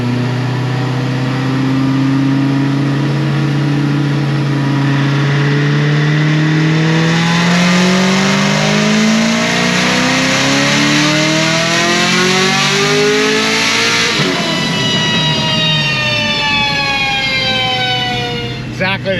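A Procharged Chevrolet Camaro ZL1 on a chassis dyno, engine climbing steadily in a long loud rev that peaks, drops briefly as the gears shift, then winds up again, close and continuous for the whole pull.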